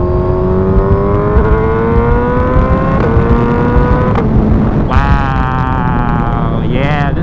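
Suzuki Hayabusa motorcycle pulling hard under acceleration, its engine note climbing steadily through gear after gear, with a sharp shift and renewed rise near the end, loud and close over steady wind rush.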